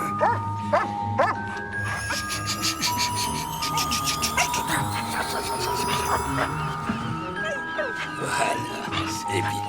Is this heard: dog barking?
yes